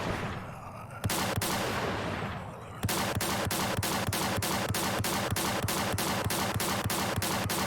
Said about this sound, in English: So this is called a shotgun smite.